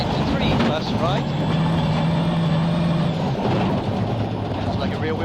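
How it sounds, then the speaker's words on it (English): A rally car's engine on a gravel stage of the 2002 Acropolis Rally in Greece, snarling loudly and steadily as it passes with rising and falling revs, under a commentator's voice. "Sounds like a rear-wheel drive car."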